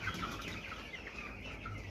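Farm chickens on a poultry farm cluck steadily in a dense, continuous flock murmur, fairly close and without talk.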